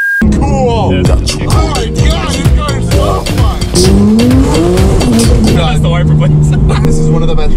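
A fast car drives hard with its tires squealing. The engine revs rise and fall in close, loud bursts, and sharp skids and squeals cut through throughout.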